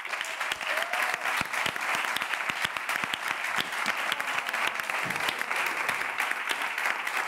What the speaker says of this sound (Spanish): Un aplauso para Orca y a Javier.